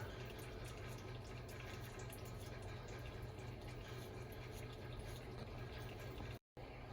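A steady stream of old engine oil drains and splashes from an International 9670 COE truck continuously without a break, close by, before cutting off abruptly near the end.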